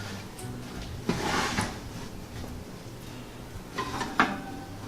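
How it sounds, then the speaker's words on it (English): A kitchen drawer slides open and shut with a couple of soft rattling clatters, faint and close, during cooking of stuffed peppers. "Sikorsky, where'd you put the oven mitt? It's in the drawer"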